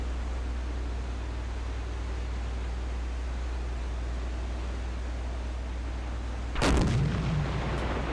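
A submarine deck gun fires in the World War II naval game Silent Hunter 4; after a long stretch of low engine rumble and sea hiss, one loud, sharp blast erupts near the end and rolls away into a brief rumble.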